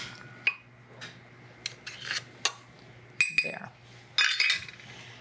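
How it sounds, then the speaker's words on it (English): Confectioner's sugar for Lacy Nut tuile cookies being sifted into a mixer bowl, heard as scattered metallic taps and clinks with short rasping scrapes, close and fairly quiet. "And you sift that right into the bowl of your mixer."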